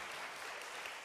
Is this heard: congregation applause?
yes